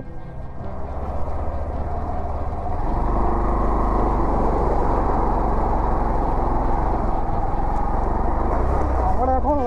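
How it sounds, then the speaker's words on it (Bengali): A motorcycle in first gear rolls down into a dry, sandy riverbed in Purulia, its steady engine drone swelling louder and holding close and continuous. "নদীর উপর দিয়ে আমরা বাইক নিয়ে নামবো"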